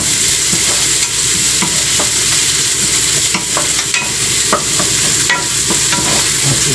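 Garlic sizzles steadily in a frying pan for an adobo-style chicken dish, with repeated scraping stirs of a utensil against the pan over the constant hiss, close and fairly loud with no talking.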